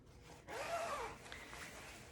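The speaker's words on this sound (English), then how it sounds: "what you want to do at this point is open up your zipper." A zipper on a sewn garment made from a Butterick B6663 pattern is pulled open with one soft, brief rasp, faint and close, in a quiet room.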